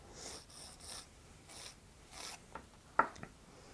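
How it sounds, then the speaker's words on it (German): A nail file rasps back and forth across a gel or acrylic fingernail in a run of short, even strokes, followed by a few quieter taps and scrapes. "mit Vor- und Zurückbewegungen das Ganze so lange feilen, bis ihr die gewünschte Form habt"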